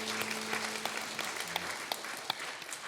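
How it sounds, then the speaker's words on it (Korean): Church congregation applauding at a Sunday worship service, a steady wash of clapping from a crowd indoors, with a sustained organ or keyboard tone beneath the first half. "날마다 새 일을 행하신 하나님 앞에 우리 감사의 박수 영광 올려드립시다."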